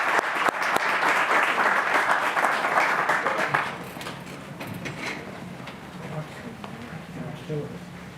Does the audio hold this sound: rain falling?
no